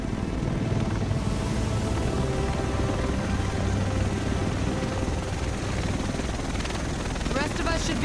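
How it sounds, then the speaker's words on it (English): A helicopter arrives in the video game The Division: a loud, steady rotor and engine drone fills the whole stretch, with voices talking over it. "The rest of us should be in this chopper."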